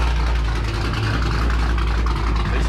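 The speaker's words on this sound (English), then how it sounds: "This car is very loud." A loud car engine idles up close, a steady low rumble with a constant drone and no pauses, heard from inside the vehicle with no talking.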